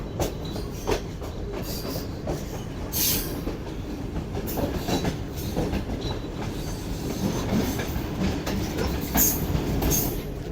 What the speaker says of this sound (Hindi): तो तकरीबन इस वक्त हमारी ट्रेन 250 फीट ऊपर चल रही है रोड के।